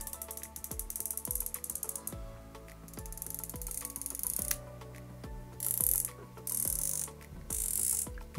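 Turret of a Leupold Mark 5-HD 2-10x30 rifle scope is turned through a series of crisp, distinct clicks, evenly spaced and close, with a few brief scraping sounds near the end.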